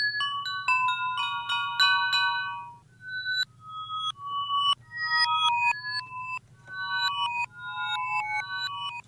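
Wind chime sample played backwards in a sampler: bright metallic tones swell in and cut off abruptly, overlapping in irregular clusters over a low steady hum.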